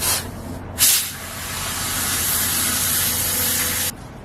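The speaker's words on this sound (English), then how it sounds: "The other thing I have is steam." Steam hisses in a long, loud continuous jet aimed at a glued wooden chair joint to soften the glue, with a brief burst near the start and a steady rush lasting almost four seconds before cutting off.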